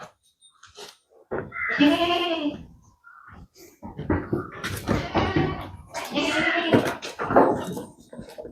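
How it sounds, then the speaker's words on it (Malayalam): Goats raised on a farm and fed dates and cashews bleat in several drawn-out, wavering calls, loud and close, mixed with people talking nearby. "ഇത് വലിയ ആടാ"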